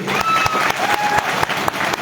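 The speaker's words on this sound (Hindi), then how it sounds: "आप उनका एक बार इनके साहस के लिए ताली बजा करके" Audience at a founding ceremony in honour of Sushila Durve claps steadily and fairly loudly, a dense crowd applause with sharp individual claps poking through and faint voices underneath.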